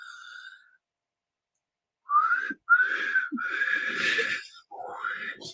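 A person whistles a few wavering, breathy notes, stopping and starting, with some low grunting sounds mixed in between.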